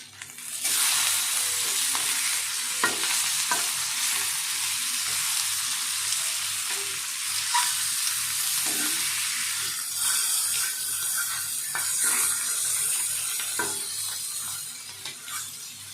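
Egg fry sizzling in a pan while being stirred, a loud, dense, hissing roar that runs nearly unbroken for the whole stretch, with occasional faint spatula scrapes and no talk.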